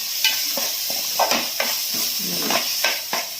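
Chili powder fries in oil in a pan for a crab curry, a loud continuous close sizzle and hiss punctuated by repeated spoon scrapes and taps against the pan, with no voices.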